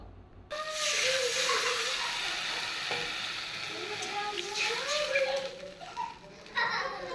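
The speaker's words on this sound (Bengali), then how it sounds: "একটু সবজিগুলো ভাজা ভাজা করে নিয়ে তারপরে জল দিয়ে দিব" Ridge gourd and pointed gourd fry in a pan with a steady, close sizzle and hiss that runs throughout, while a voice talks over it.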